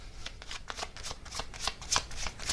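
Tarot message cards are shuffled by hand, a rapid series of crisp riffling flutters and soft taps repeating close by with no talking.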